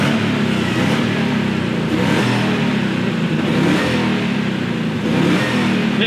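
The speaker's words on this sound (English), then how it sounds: "it sounds like a supercharger now. You hear that" A 24 Hours of Lemons race car engine fitted with a Whipple supercharger revs loudly and close up, rising and falling in several pulses with a steady supercharger whine and no talk.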